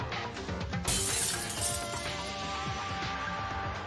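Glass breaking in the fangame Danganronpa Another, a bright sustained shatter that bursts in and rings on over a dense background of game music.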